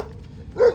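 A single short dog bark rings out near the end, brief and fairly close against a quiet room.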